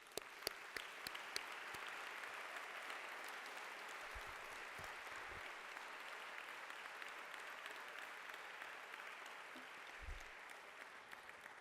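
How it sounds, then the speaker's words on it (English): An audience at a Harvard symposium applauds a film crew, a broad, sustained roomful of clapping with a few sharp individual claps standing out at the start, steady throughout. "let's give them all of them a big round of applause again"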